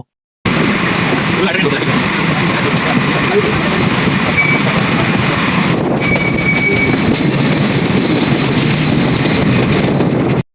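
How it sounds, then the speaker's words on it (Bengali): Rupsha Express pulling out of Khulna bound for Jessore, a steady loud rumble of the moving train that runs unbroken for the whole stretch, with voices talking over it. "খুলনা থেকে যশোরের উদ্দেশ্যে ট্রেনটি ছেড়ে দিল।"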